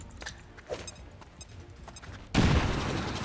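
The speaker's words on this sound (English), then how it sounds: "Just frag grenade it." A frag grenade goes off in the XCOM 2 strategy game, a sudden loud broadband blast that cuts in near the end and holds as a rumbling roar after quieter clicks and ambient game sounds.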